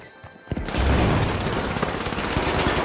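Rapid automatic gunfire in The Finals, a burst of shots that opens after a brief quiet start and then keeps up as dense, loud, continuous firing for the rest of the moment.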